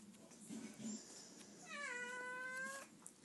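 A cat meows with a rising, drawn-out wail that holds steady for about a second, close and clear over a soft background hum, with no talking.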